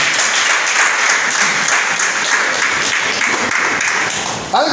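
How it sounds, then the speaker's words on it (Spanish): Church congregation breaking into applause, a dense, loud wash of clapping from many hands that holds steady for several seconds before cutting off. "¿Cuánto da un aplauso al Señor?"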